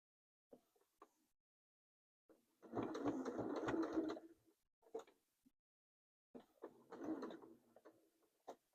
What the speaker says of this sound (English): I want to try to machine stitch it.